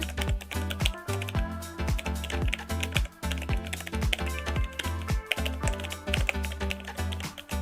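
Bank card details typed on a computer keyboard: rapid, close, continuous key clicks in uneven bursts, with occasional heavier keystrokes and no voices.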